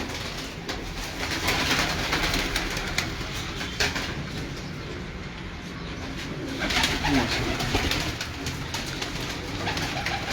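Pigeons cooing in a loft, soft low coos repeating over a steady outdoor background murmur, with a brief wing flutter or two.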